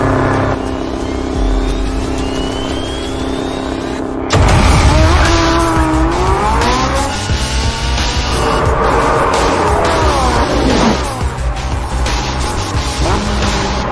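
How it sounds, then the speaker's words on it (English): A Porsche 918 sports car drives fast on a race track: a loud, close engine roar climbs and drops through gear changes, with squealing tyres through the corners and no talk. "Next, it was the turn of the Porsche 918."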